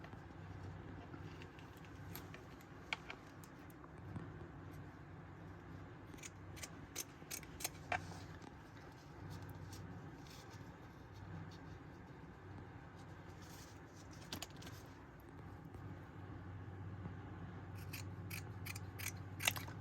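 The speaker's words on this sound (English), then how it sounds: "Get these scissors out because these are my cloth scissors." Cloth scissors snip through fabric scraps in a series of short, crisp cuts, some close and sharp, against a low steady background hum.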